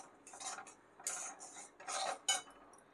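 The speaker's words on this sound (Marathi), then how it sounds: "व्यवस्थित असं मिक्स करून घेते." Spoon stirring ground rice flour mixed with cardamom powder and roasted sesame seeds in a pan, producing irregular scraping and clinking bursts at close range, with no talking.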